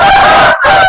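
An aseel breeder rooster gives a single loud, harsh, honking call, very close, with a short break near the end.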